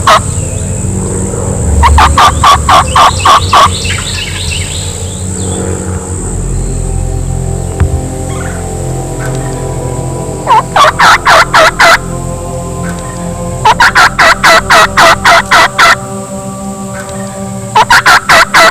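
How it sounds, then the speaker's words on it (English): Blasts from a crow locator call draw answering gobbles from wild turkey gobblers during a turkey hunt, with several bursts of rapid, rattling calls spread across the clip over a steady background of insect buzz and hum, with no talking. "we're gonna try the old crow call and blast that a couple times and see what happens"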